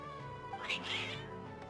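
A cat gives a brief, faint meow over a quiet background hum in Genshin Impact.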